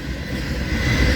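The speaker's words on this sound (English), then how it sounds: "Yeah, this is the I-95 train" CSX freight train rolling past on the I-95 line at Folkston, a steady loud rumble of wheels and cars close by with no pauses.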